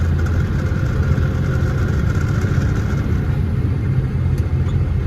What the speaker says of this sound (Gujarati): આગળ જો હજી ટ્રાફિક છે